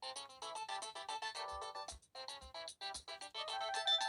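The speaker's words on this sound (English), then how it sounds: "It has this ringtone." Polyphonic ringtone from a Samsung SGH-X660V flip phone speaker, a bright, tinny electronic melody of quick repeated notes with low buzzy vibration thumps between phrases, fairly faint and alone.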